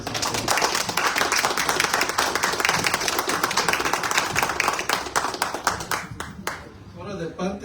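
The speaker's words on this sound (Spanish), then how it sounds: "Un fuerte aplauso, por favor, para el licenciado" An audience at a public-policy lecture gives a speaker a round of applause: lively clapping throughout, with voices talking over it, thinning into a few scattered claps near the end.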